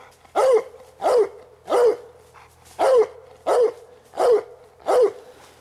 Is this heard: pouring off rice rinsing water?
no